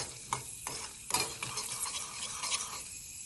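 Dal roasts dry in a pan while being stirred: a few sharp scraping strokes over a soft sizzle, quiet and close, with no talk.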